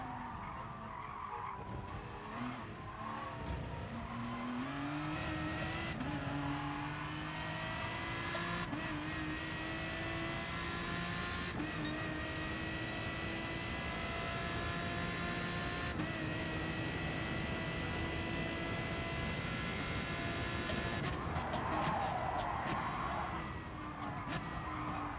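A race car lapping a circuit in GT Sport on worn tires, a continuous loud engine drone rising and falling through gear changes, with tire squeal and skidding through corners.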